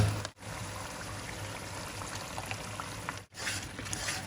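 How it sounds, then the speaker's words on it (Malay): Steady sizzling of blended rendang spice paste frying in hot oil, with occasional scraping and stirring noises throughout, continuous and fairly close. "Kita kacau sampai pecah minyak."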